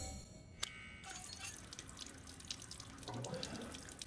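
A sink tap runs steadily in the horror game Resident Evil Village, a soft, quiet trickle of water after a single bright ding near the start.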